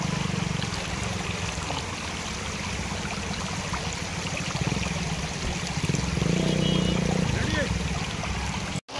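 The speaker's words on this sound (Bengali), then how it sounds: "এদিক দিয়ে আস্তে আস্তে জলের স্রোত বাড়ে।" Floodwater current pouring over a main road beside the river at Borkhola, Silchar, a steady broad rushing wash that holds constant throughout, growing slightly louder near the end before cutting off abruptly.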